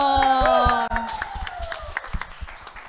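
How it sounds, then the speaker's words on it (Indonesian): Applause from a small audience at a live radio music session after a band finishes a song; a sustained chord fades out as scattered, uneven claps rise underneath and continue alone. "Tepuk tangan"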